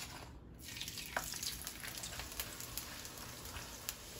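Tortillas fry lightly in hot oil in a skillet, giving a soft, continuous crackling sizzle with scattered pops, quiet and close with no talking.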